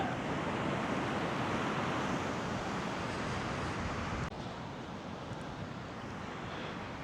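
Ocean waves washing onto a beach near Pierpont, a continuous broadband roar of surf mixed with wind noise on the microphone, steady and fairly loud, dropping slightly partway through.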